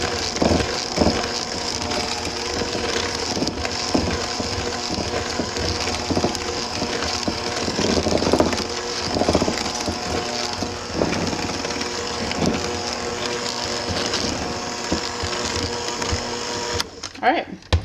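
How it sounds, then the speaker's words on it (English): Flour for cookies is sifted a little at a time, giving a steady close scratchy rasping and rattling of the sifter with soft taps throughout, ending in a few louder knocks. "We're gonna sift a little at a time."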